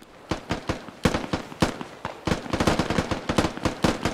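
Gunfire in the military shooter game Squad: a string of sharp, fairly loud shots, scattered at first, then coming in quicker bursts of rapid fire with no talk over it.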